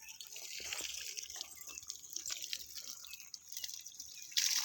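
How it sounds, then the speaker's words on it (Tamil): Oil cake solution is poured from close by onto the roots of a jasmine plant outdoors, making a faint, soft trickle and splash of liquid soaking into soil, with no voices. "நல்லா வேரில் போகிற மாதிரி ஊற்றிக்கோங்க"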